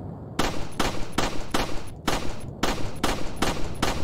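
Gunfire in Resident Evil 4 Remake rings out as a run of about nine loud, evenly spaced shots, each sharp blast fading quickly before the next, close and with no talk.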